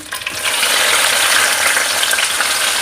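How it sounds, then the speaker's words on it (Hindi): Loud, steady sizzling and crackling of garlic ginger paste frying in hot oil, close up, with no pauses, while cooking spiced liver. "अब हमने इसको फ्राई करना है।"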